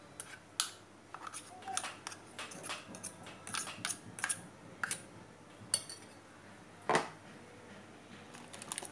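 A utensil clinks and scrapes against a bowl as pickled eggplant and vegetables are tossed with fish sauce, giving a string of sharp close taps and clicks at an uneven rhythm with a faint background hiss.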